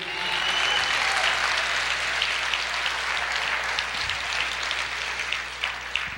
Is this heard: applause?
yes